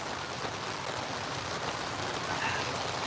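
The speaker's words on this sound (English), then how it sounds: "It is a rainy day here in Schaumburg, Illinois" Rain falling steadily at an outdoor quadball game in Schaumburg, Illinois, a dense even hiss of drops on surfaces that holds constant throughout with no talk over it.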